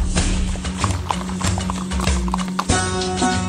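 Marwari horses walking on a trail across Rajasthan farmland, hooves clip-clopping in a steady uneven rhythm close by, with a brief whinny and loud, clear hoof strikes throughout.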